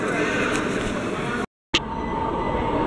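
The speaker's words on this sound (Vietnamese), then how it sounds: "Đây là ga tàu điện ngầm" Steady rumble and hum of a large subway station in Kaohsiung, Taiwan, with a train or rail noise filling the space, a brief cut of silence midway, and faint voices in the background.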